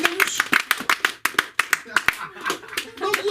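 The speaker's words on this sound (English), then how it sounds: "Does that get a round of applause from you?" Comedy club audience clapping in scattered, separate claps with uneven rhythm rather than full applause, mixed with talk and voices close by.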